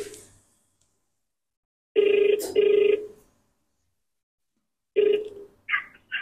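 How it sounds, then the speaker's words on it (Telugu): A phone rings out on a call to a mother, with two loud electronic ring bursts close together, a silent gap, then another ring cut short before a voice answers. "సరే మా అమ్మ కాల్ చేస్తాను."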